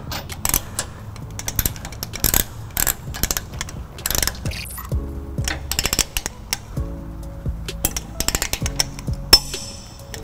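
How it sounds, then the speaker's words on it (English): Ratcheting clicks from a torque wrench tightening trailer hitch bolts on a 2012 Lexus GX 460, with rapid, close, repeated sharp clicks in bursts separated by short pauses. "you should hear your torque wrench give you a click"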